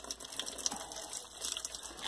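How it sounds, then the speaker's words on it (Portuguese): Tap water splashes onto the leaves of a potted gloxinia, a continuous close hiss of running water with small spattering droplets throughout. "eu vou jogar água nas folhas dela sim"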